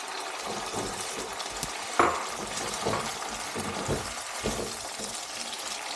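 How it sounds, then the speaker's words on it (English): Three eggs scrambled lightly in a pan over browned sautéed onion and jalapeño, a steady close sizzle with soft repeated stirring scrapes and one small clink partway through. "I'm going to go ahead and add the eggs and scramble them lightly"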